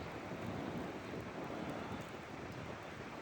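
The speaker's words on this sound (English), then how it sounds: "I don't know if you can see the wind gusting out there" Blizzard wind gusts outdoors in Connecticut, a steady broadband roar and rumble buffeting the microphone, constant and fairly loud with no voices.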